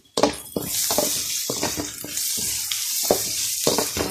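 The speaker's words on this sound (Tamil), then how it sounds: "வெங்காயம் நல்லா வதங்கி வச்சு" Onions fry in a pan for Chettinad chicken gravy with a loud, steady sizzle, broken by repeated scraping stirs of a utensil against the pan, with no talking.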